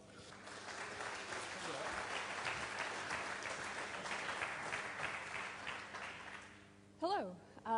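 A conference audience applauds a speaker being introduced, dense sustained clapping for about seven seconds before it fades and a voice briefly speaks.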